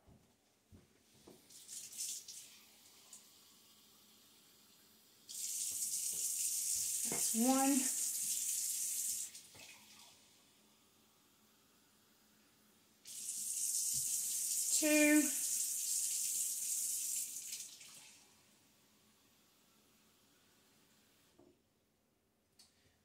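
Lukewarm water pours from a tap in two steady bursts of about four seconds each for a bread dough, close and fairly loud, with brief talk between them.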